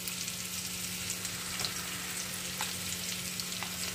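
Hot oil sizzles and fries steadily in a pan as turmeric powder goes in for a thin pabda fish curry tempered with kalo jeere, a dense continuous crackle with a low hum beneath and no talk.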